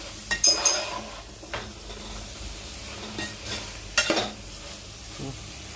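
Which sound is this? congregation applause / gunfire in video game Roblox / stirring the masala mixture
stirring the masala mixture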